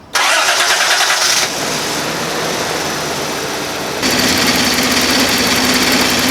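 A Toyota 4Runner 3VZE V6 cranks briefly and catches, then settles into a loud, steady idle close by, with a rise in engine note partway through as it revs slightly.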